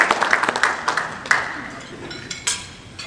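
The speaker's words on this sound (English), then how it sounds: "let's give Dan another round of applause." Dinner audience at a Democratic Party of Orange County annual banquet breaks into applause, claps dense at first then thinning and tapering off, with some voices underneath.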